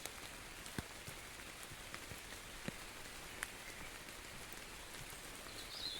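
Soft, steady rain falls in a forest, a faint continuous patter with a few sharper drips landing close by at irregular moments, and no voices.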